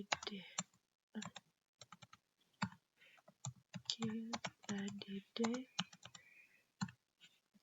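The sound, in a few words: typing on a computer keyboard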